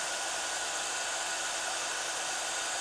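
Heat gun held still over embossing powder for stamping, a steady, soft, even blowing hiss that continues unbroken.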